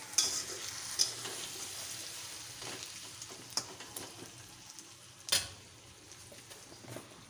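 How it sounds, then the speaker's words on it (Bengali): Cumin, chilli and coriander powder paste frying in oil in a pan for a fish dish, a low steady sizzle broken by occasional stirring scrapes and a few sharp clinks, with no voices. "মশলাটা তেলে ভালো করে কষিয়ে নেব"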